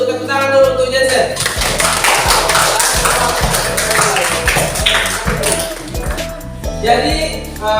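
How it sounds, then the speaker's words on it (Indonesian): Classroom applause for a student named Jensen during a university teaching-practice lesson: a dense burst of many hands clapping, loud and sustained for several seconds, with children's voices mixed in. "Berikan tepuk aplaus dulu untuk tepuk tangan dulu untuk Jensen"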